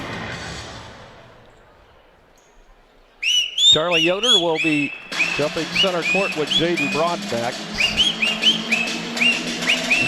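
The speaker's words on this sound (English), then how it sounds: "whistling in the background as we begin this ball game" Someone whistles a lively melody in a large echoing high school gym before a basketball game, warbling notes over crowd murmur, while an announcer speaks over it.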